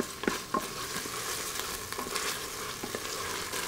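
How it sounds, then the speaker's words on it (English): Onion and miso cooking in a pan for a vegan risotto give a quiet, steady sizzle with a few soft stirring scrapes near the start, and no talk. "I'm gonna let the onion and the miso cook here just a little bit"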